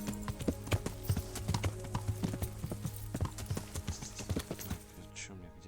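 Horse hooves in the video game Kingdom Come: Deliverance, a steady run of clip-clop strikes at a walking pace, fairly close and continuous, with a low background hum.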